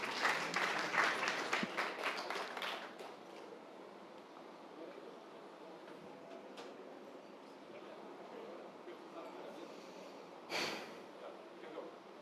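Audience applause at a startup pitch battle event, a burst of clapping for about three seconds that quickly fades into quiet room noise, with a brief rustle later.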